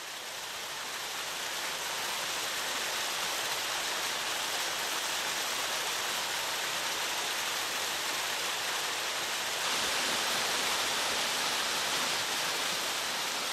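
Garden waterfalls among ponds and bridges on the Bahamas, a dense, steady rushing roar that stays loud and even throughout, with no voices.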